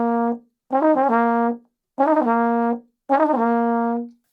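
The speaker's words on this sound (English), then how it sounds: "there is often not enough time to tongue the second note, so you just create an air explosion instead" Trombone jazz turns in which the second note is started with a puff of air rather than the tongue: four sustained, bright brassy phrases with quick ornamental bends, separated by short gaps and played alone.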